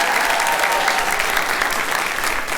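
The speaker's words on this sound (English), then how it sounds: "Give yourselves a round of applause, please." Loud, sustained audience applause fills the space at a live show in Uganda, a dense wash of many hands clapping continuously with no pauses.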